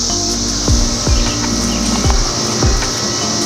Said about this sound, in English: What I love about the cicadas is the noise that they make consistently